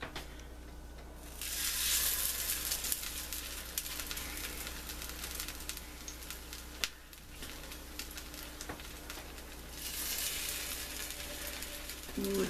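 Burritos frying on a hot skillet give a steady close sizzle and crackle that swells loudly twice, with a brief clack in between.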